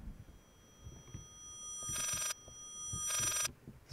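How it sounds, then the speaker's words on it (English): In the horror video game Layers of Fear, an old telephone rings twice, two sharp bell bursts separated by a short pause, fairly loud against a quiet, faintly rumbling background with no talk. "Fucking telephone ringing."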